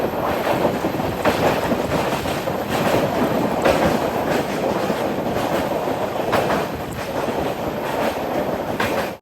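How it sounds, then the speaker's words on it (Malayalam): A train pulls into Kollam Junction railway station on the Punalur–Chengottai line, a loud continuous rumble with rhythmic clickety-clack of wheels and wind buffeting the microphone, heard from on board. "ട്രെയിൻ ഇതാ കൊല്ലം ജംഗ്ഷൻ റെയിൽവേ സ്റ്റേഷനിലേക്ക് എത്തുകയാണ്"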